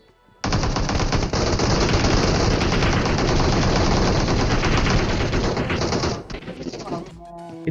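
Sustained automatic gunfire in the PUBG Mobile video game, a loud, dense, rapid burst of shots lasting several seconds before breaking off into a few scattered final pops.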